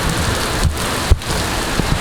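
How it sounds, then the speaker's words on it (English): Heavy storm rain pours down in a steady, dense hiss, with a couple of brief thuds, close and loud for about two seconds with no voices. "these huge storm clouds are moving in, and we're about to get drenched"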